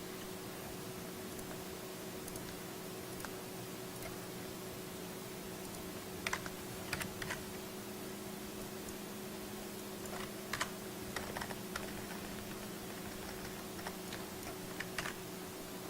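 Someone types an address on a computer keyboard: quiet, sparse keystroke clicks in small bursts over a steady low hum, with no voices.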